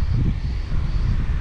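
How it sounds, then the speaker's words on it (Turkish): Steady low wind rumble buffets the microphone at a seaside marina in Yeni Foça, Turkey, a constant dull roar with no voices. "Burası rüzgarlı, rüzgar alan bir yer."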